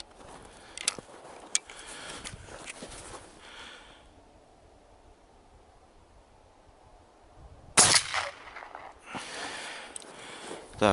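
Two sharp, loud blasts from a 1959 IZh-K 32-gauge shotgun firing shot ring out several seconds apart, each followed by a short echoing tail, with quiet handling noise in between.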